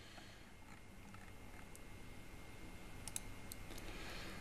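A computer mouse clicks quietly a few times in a faint, evenly spaced cluster near the end, over a low steady room hiss.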